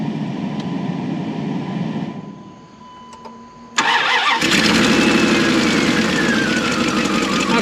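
A junk Dodge Durango engine with two cylinders deleted runs roughly, first a steady uneven idle, then a brief quieter dip before it surges louder and harsher, close by with no talk.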